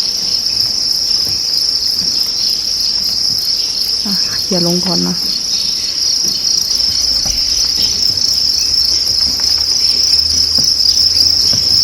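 Steady, loud cricket chirping fills the whole clip on a cricket farm, with someone briefly speaking over it partway through.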